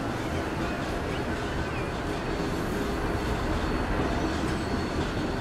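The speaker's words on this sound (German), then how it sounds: "Die 17er Tram Richtung Westend." A line-17 tram rolls past steadily in the city-building game Transport Fever 2, a continuous low rumble with faint wheel clatter, moderately near and unbroken, with no one speaking.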